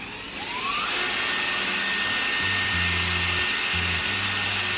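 A steady high whir of a power drill, used while installing mud flaps on a Mazda3, runs throughout, with short bursts of a lower motor drone pulsing in and out near the end.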